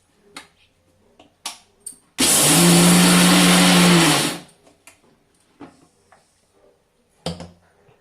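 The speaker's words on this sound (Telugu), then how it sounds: "ఇప్పుడు దీన్ని మనము బ్లెండ్ చేసుకోవాలి." A kitchen blender grinds peanuts into powder for peanut butter in a loud, steady two-second whir, framed by faint clicks and handling taps before and after.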